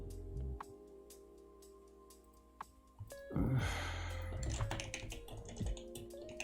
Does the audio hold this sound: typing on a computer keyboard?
yes